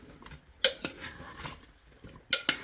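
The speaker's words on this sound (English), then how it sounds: "And then don't forget to stir." A spoon knocks and scrapes a few times against the crock while Cajun potatoes and sausage are stirred in a slow cooker, with sharp clinks spaced out and quiet between.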